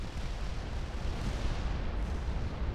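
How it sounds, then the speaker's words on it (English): Naval gun salvos in Ultimate Admiral: Dreadnoughts, a dense, continuous low rumble of heavy shipboard guns firing, sustained and loud throughout with no clear separate blasts. "Here come the salvos."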